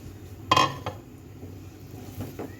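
Potatoes dropped into a pan of sautéed ground spices for a rohu fish and potato curry: a quick metallic clatter and sizzle, then a lighter clink and a faint scrape near the end.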